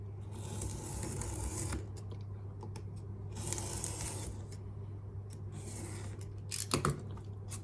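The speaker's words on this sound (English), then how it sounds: "take the cutting tool, and I will follow this guide right here" A blade drawn along a cutting guide while making a bottlecap blaster, giving quiet close scraping slices in a few separate strokes over a faint steady hum.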